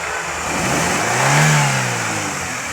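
A Toyota Corolla 100 AC Limited's 1500 cc engine revs up to a loud peak and then falls back, heard close and alone.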